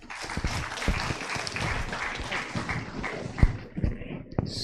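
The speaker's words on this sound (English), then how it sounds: "A big round of applause." An audience at an architecture best thesis award event gives a round of applause, with individual claps standing out irregularly and a few sharp louder hits toward the end.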